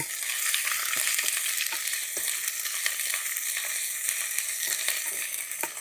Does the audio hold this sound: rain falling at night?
no